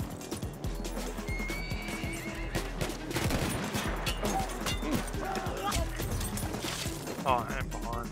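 A horse in Battlefield 1 gallops hard, and loud neighs and whinnies rise over a dense battle din of crashes and gunfire, with voices talking underneath.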